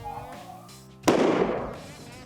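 A single sharp gunshot rings out close by while hunting swamp rabbits, cutting through a quiet outdoor scene and trailing off in a decaying rumble; quiet voices can be heard faintly beforehand.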